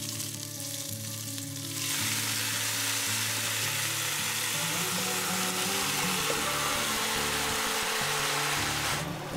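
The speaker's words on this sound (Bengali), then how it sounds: "এবারে মুরগি ও সবজি মাখাটা দিয়ে 1 কাপ মতো গরম জল দিতে হবে।" Chicken and winter vegetables fry in a pan for a thin chicken curry, and a cup of hot water poured in sets off a loud, sustained sizzle that swells after a quieter opening and holds steady.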